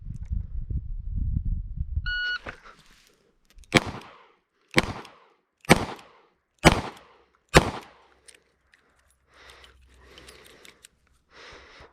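A short electronic shot-timer beep sounds after a low rumble, followed by five sharp, evenly spaced gunshots from an S&W 351c snub-nose revolver echoing, then quieter handling noises.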